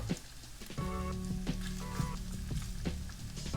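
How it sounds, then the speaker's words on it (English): Tofu frying in an even layer in a pan, a steady crackling sizzle with scattered pops and a faint tonal hum underneath. "So we're going to cook this down for a while and wait until it gets nice and crisp."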